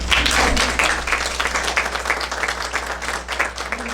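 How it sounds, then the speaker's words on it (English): Audience at a meeting applauds steadily, a dense wash of many hands clapping that stays loud and fairly even throughout. "Let's give her a round of applause."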